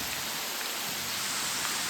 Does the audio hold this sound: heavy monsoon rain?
yes